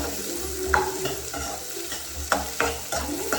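Egg curry masala with onion and chilli stir-fried in a pan: a soft sizzle underneath, punctuated by several sharp spoon scrapes and clanks against the pan, close up and without speech.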